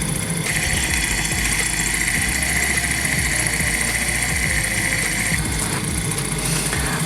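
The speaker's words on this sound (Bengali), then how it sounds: "আর এটার সাউন্ড একদম বাষ্প ইঞ্জিন, যেটা আমরা জানি বাষ্প ইঞ্জিন, সেই ইঞ্জিনের মতোই সাউন্ডটা হচ্ছে" A small Stirling engine runs steadily with a continuous mechanical chuffing hum like a miniature steam engine, its drone holding evenly for several seconds with a faint high whine above.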